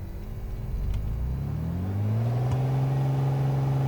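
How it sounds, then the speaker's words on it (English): An aircraft rolls down the runway in Microsoft Flight Simulator with the FSRealistic add-on, its engine note rising steadily over a rumbling ground roll and vibration, loud and continuous. "Nice ground roll effect there and engine vibration."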